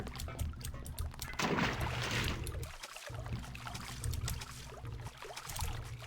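Underwater swimming in the video game Deus Ex: a steady, washy churn of water with sloshing strokes and brief dips, moderately loud and continuous, with no talking over it.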